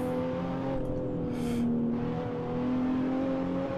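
Engine of a stage 3 BMW 1M pulling hard at a hillclimb, a steady, close droning note that rises slightly in pitch, with a brief hiss in the middle.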